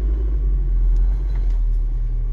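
A Nissan D21 Hardbody pickup with a 5-speed manual idles close by, giving a steady, deep engine rumble that holds even and alone for the whole moment.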